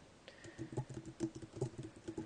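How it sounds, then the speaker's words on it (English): Someone types on a computer keyboard while making a blog post, with soft, uneven clicking keystrokes in irregular bursts, fairly quiet and close, with no talking. "Sorry, my typing is very poor."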